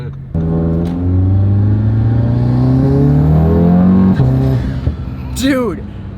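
A modified BMW M550 E50 with methanol injection, making around 900 hp, revs hard with a loud intake roar. The pitch climbs and falls across several sustained pulls, close and dominant, then cuts off sharply before a brief chirp.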